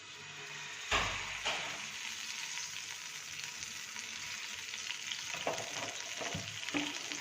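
Cooking oil, about a cup, pours into a pan for dhaba-style chicken handi and starts a steady sizzle and hiss, with a sharp splash near the start and a few later clinks and stirs. It sounds close by, and no one speaks.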